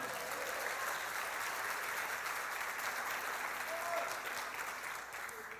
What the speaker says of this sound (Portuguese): Se você crê nisso, dê um aplauso ao Senhor.